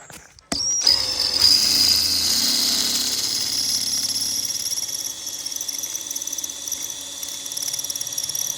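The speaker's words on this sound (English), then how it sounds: "I'm actually gonna drill out these 4 rivets on the front towards the end cap." Power drill boring out rivets on the end cap of an FMF exhaust for a KTM 250SXF, a loud close whine that starts abruptly and holds steady with a high pitched tone.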